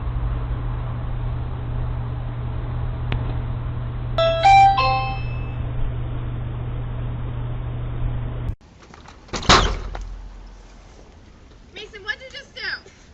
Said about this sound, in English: This lizard decided to ring this doorbell.